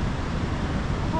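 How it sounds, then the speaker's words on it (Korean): Strong ocean waves surging on the East Sea coast at a backpacking campsite, a loud, continuous broadband wash of surf with wind noise, steady throughout with no clear breaks. "파도가 너무 센데?"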